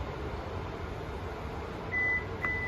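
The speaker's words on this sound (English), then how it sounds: "You heard the beep, and that's where it will stay." A steady electronic beep from the liftgate of a 2025 Tucson Limited AWD rings out near the end over a constant low mechanical hum.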